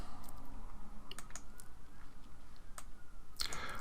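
A computer mouse clicks once, crisp and close, near the end, after a stretch of faint keyboard-like ticking and low room hum.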